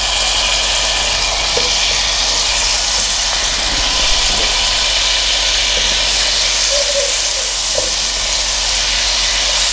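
Butter melting into hot olive oil in a pan over medium heat, a loud, steady broadband sizzle and hiss with faint crackles, continuous and close.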